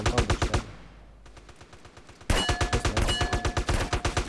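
Rapid bursts of automatic gunfire in a video game with sharp, evenly spaced shots, a brief lull, then another fast volley, loud and close.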